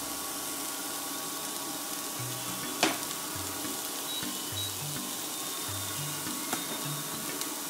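Ground spices (coriander powder, chili powder, amchur and garam masala) frying in a pan for a cauliflower kachori filling: a steady, close hiss of sizzling oil, with soft low scrapes from stirring and one brief sharp clink.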